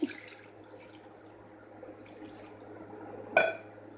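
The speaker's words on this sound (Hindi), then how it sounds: "बस 1 गिलास डाल दूँ पानी का।" Water is poured from a glass into a pot of beef karahi, a soft, steady trickle that ends in a brief, sharper splash near the end.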